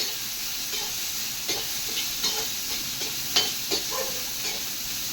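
Pirandai (veldt grape) being sautéed and stirred in a pan, giving a steady soft sizzle and hiss with a few scattered scraping clicks of the spoon, no voices.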